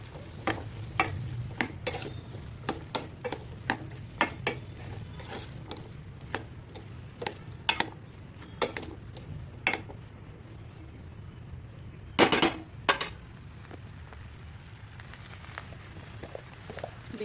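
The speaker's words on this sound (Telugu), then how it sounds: "బీరకాయ పీసెస్ వేసుకున్నాక కలుపుకోవాలి మొత్తం కలిసి వరకు." Ridge gourd pieces being stirred in a pan give intermittent sharp clicks and scrapes of a spoon against the pan over a low background hum, with one louder burst of clatter.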